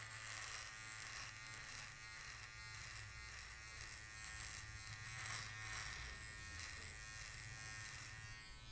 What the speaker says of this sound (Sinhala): රවුල සම්පූර්ණයෙන්ම ට්‍රිමර් එකේ නෝට් එකෙන් කපලා අයින් කරමු